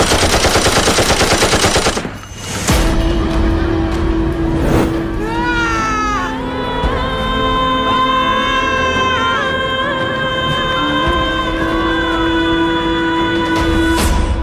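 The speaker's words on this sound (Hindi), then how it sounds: "सिचुएशन को कंट्रोल में करने के लिए पुलिस ने यहां गोलियां और लाठी चलानी शुरू की" Gunfire sound effect in a school annual day stage performance depicting police opening fire, loud rapid bursts like a machine gun at the start, then dropping away under sustained music and tonal effects that fill the rest.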